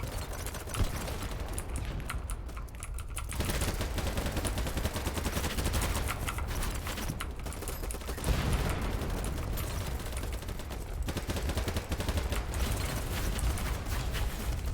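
Sustained automatic gunfire in the shooter game BattleBit, dense rapid bursts running nearly the whole time at steady close loudness, with brief pauses between strings of shots.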